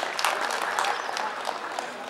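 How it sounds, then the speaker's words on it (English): Spectators at a North East Olympic Games swimming competition applaud, a brief, moderately loud burst of many hands clapping at once, heard from a little distance. "Please give him a big round of applause."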